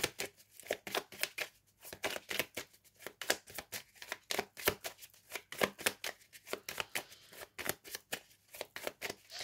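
Tarot cards being shuffled by hand for a reading, close and crisp, with rapid riffling bursts repeating in an uneven rhythm for several seconds and no talk.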